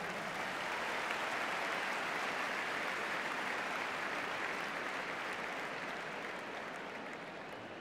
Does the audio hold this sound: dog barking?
no